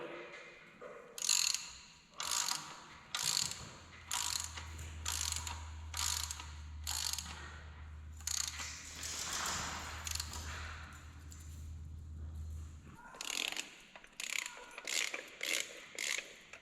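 Crankshaft seal installer tool pressing a seal into a Duramax engine, a series of rapid ratcheting bursts in short repeated strokes, with a low steady hum underneath through the middle.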